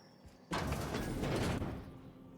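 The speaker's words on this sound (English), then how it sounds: "Vending machine." A vending machine in the video game Prophecy Girls gives a sudden loud mechanical clunk and whirring rattle, which lasts about a second before fading down.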